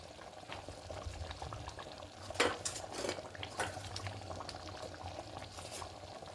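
A pot of moong dal cooked with chicken simmering on the stove, a steady low bubbling with a few clinks and stirring scrapes of a utensil, close and fairly quiet throughout.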